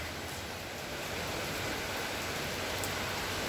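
Heavy rain pours during a windy storm in Athens, a dense, steady hiss that stays loud and unbroken throughout, with no voices.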